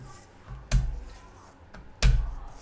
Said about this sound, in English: And you're just crushing the garlic up.